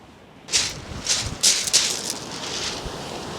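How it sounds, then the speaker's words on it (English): Strong gusts of wind on Chesil Beach buffet and roar in several bursts, with rustling and a steady windy rush between them. "it's not that windy, but it is pretty windy"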